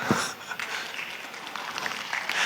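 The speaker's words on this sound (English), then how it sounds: "Maybe we're not clapping hard enough." A conference plenary audience at an international cybersecurity event claps for a speaker's entrance, a thin, fairly soft spread of applause with a few crisper nearby claps, steady for the whole stretch with no speech.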